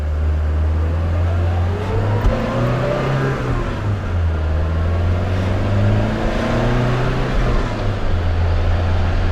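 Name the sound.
1972 BMW 2002tii engine accelerating while driving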